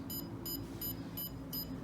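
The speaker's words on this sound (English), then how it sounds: "will once again be beeping at 1 kilohertz" A steady 1 kHz electronic beep from a sonar-based distance indicator repeats five times at an even pace, each tone short and bright, over a low background hum.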